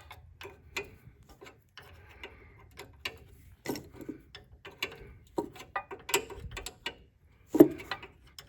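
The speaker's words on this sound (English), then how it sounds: "I'm going to take that center bolt out and then put the angle shim in." A leaf spring center bolt is removed from a Jeep with a ratchet, giving faint, irregular metallic clicks and ticks. Some louder clanks come near the end, with no talk.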